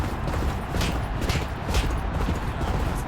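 Racehorse galloping in the Champion Jockey horse-racing video game, a steady dense drumming of hooves mixed with crowd and race noise, continuous and fairly loud throughout.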